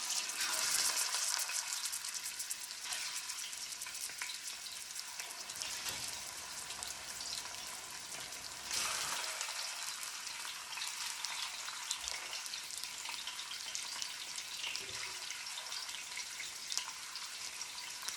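Fish sears in a hot pan with garlic and a little pepper, giving a steady, loud broadband sizzle that runs the whole time without pause, with a few brief dips and swells as the fish settles in the oil.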